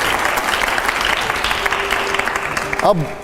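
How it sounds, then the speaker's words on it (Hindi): Studio audience applause on a Hindi TV talk show, a dense steady wash of clapping throughout, with a voice and a brief tonal sound near the end. "संविधान, तालियां हो जोरदार।"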